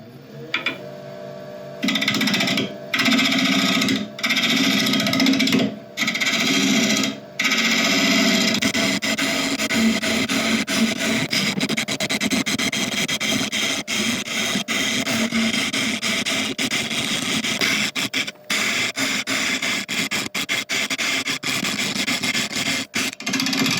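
A mallee burl is hollowed on a wood lathe, giving a continuous harsh, noisy scraping and cutting roar with a few early gaps where the tool lifts off, close and loud throughout.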